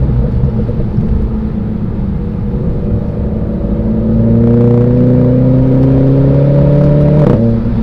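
A Renault Clio RS fitted with a Powerflex lower torque mount pulls hard under throttle, its engine note rising steadily in pitch and growing louder through the gears before a brief shift, with no talking.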